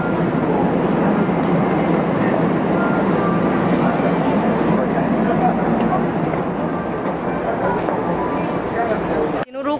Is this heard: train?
yes